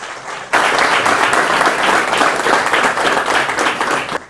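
A crowd at a Christmas gathering at a fishing spot breaks into applause, starting abruptly after a quiet moment and holding steady and dense for several seconds.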